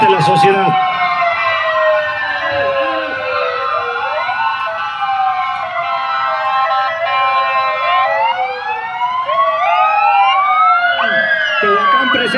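Several Red Cross ambulance sirens wail and yelp together during a parade in Puebla, with overlapping rising and falling tones held loud and steady throughout, while a person talks underneath.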